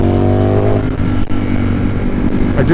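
A Ducati V4 Streetfighter motorcycle engine runs loud and close with a steady deep growl, holding a constant throttle over the short stretch without speech.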